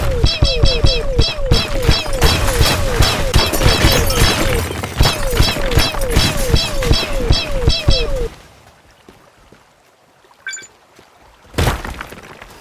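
A modded pistol in the Teardown game fires rapidly in a dense, rhythmic stream of sharp shots with ringing tonal zips for about eight seconds, then stops, followed by a few faint clinks and one last loud burst.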